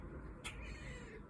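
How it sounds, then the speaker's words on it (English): A domestic cat lets out a single short, faint meow amid quiet room noise, heard alone with no talking over it. "We got some meow out of you, too."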